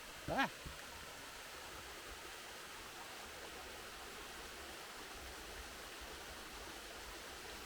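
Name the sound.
waterfall cascade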